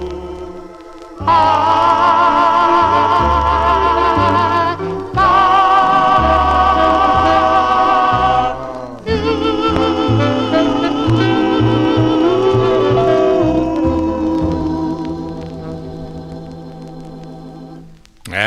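A 1955 doo-wop record plays loudly in three sung phrases of harmonized vocals, then fades to quieter music at the end.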